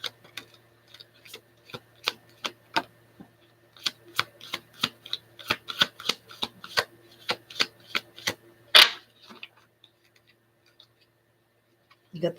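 Tarot cards being shuffled in a brisk series of sharp riffling clicks, a longer burst near the end, then quiet.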